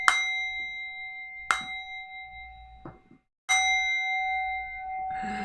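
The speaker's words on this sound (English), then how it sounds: "That's why we bring the bell." A bell rung for the stock market opening strikes three times with bright, ringing clangs, each tone decaying before the next, with a short silence before the last strike.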